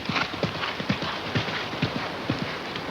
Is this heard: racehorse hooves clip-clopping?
yes